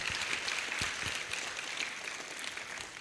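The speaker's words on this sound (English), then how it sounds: "A round of applause for him." Applause from an audience at a foundation learning exchange welcoming the Vice President of Sierra Leone, a fairly close, lively burst of clapping with a few sharp individual claps standing out, continuing evenly throughout.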